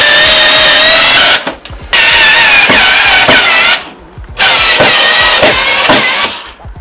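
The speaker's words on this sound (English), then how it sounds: "I screw it into the wall, that nice and neatly" A power drill drives a screw into a wall while a desk setup is assembled, loud whirring bursts near the mic repeating three times with short pauses between.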